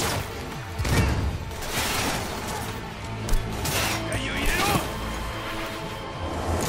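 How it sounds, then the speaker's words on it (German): Loud explosions and gunfire-like blasts in a Cyberpunk 2077 combat scene, with several booming bursts and crashes layered over talk throughout. "So eine fette Explosion."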